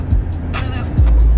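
Inside a moving car, a loud, steady low road rumble and engine hum fill the cabin, with a brief soft voice-like sound near the start and a swell in the rumble about halfway through.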